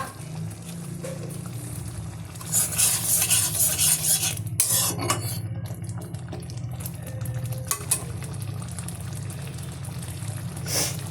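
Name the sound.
dal (lentils) boiling in a pot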